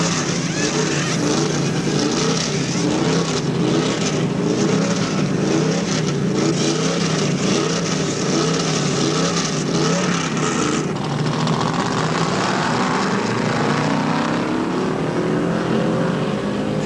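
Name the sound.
Chevy stock race car sliding into the pits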